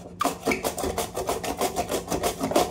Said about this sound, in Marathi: कांदा किसून घेत आहे।